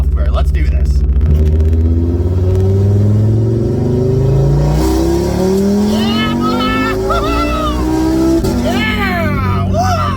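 An Audi RS3 with TTE85 turbo on Unitronic software pulls hard through third gear, the engine note climbing in a loud, rising rev sweep with exhaust rumble and a quick shift, while a voice speaks over it.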